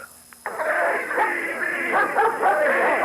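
Police dogs bark and yelp insistently at a crowd being pushed back, a dense run of close, loud barks and whines filling the moment after a brief quiet start, with voices mixed in.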